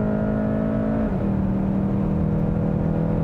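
A 2022 Volkswagen GTI hot hatch accelerating at full throttle on a track, a loud, steady engine drone heard from inside that drops in pitch at a gearshift and keeps pulling, with no voices.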